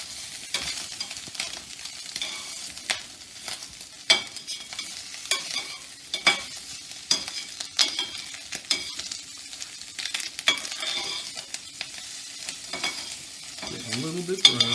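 Ingredients for paella fry and sizzle in a pan while a utensil stirs and scrapes through them in irregular bursts, close and steady, with no talking.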